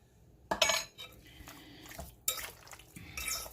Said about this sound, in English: we're just going to mix this really good and get all the seasoning.